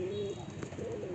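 A flock of pigeons coos nearby in low, rolling calls that carry on without a break over a faint steady background hum.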